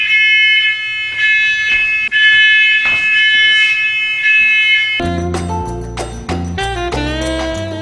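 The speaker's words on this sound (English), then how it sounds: "that your smoke alarm?" A loud, steady electronic alarm tone sounds continuously, then shifts into a harsher, pulsing beep pattern partway through.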